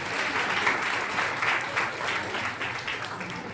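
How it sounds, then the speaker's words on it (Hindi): Audience applause for a teacher at a gathering celebrating UP Police recruitment selections, a steady dense clapping from many hands sustained throughout with no voices over it. "सर के लिए एक बार जोरदार तालियां हो जाए।"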